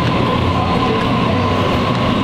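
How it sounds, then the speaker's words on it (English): A train runs steadily in a loud, continuous rumble with faint rhythmic clatter and a thin high whine, heard from on board, with no voices. "Changing trains."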